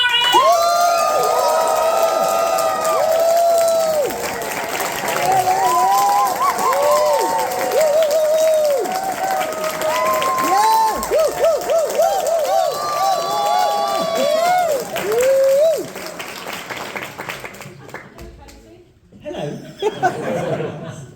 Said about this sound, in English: Whoop, cheer, scream.